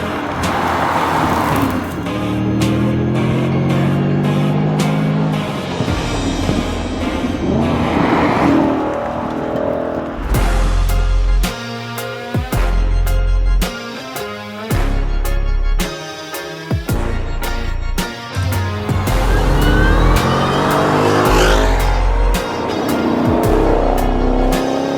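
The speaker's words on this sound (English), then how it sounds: "The GT350 is finally back, and it's built by Shelby." Shelby GT350 engine rumbling and revving loudly with repeated throttle bursts, sounding like a car racing by with some tire squeal, continuous and close throughout.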